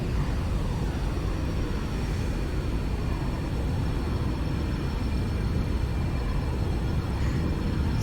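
An Antonov An-225 in a flight simulator game, its engines holding a steady loud roar as the heavily loaded plane slowly gathers speed down the runway, unbroken and without voices.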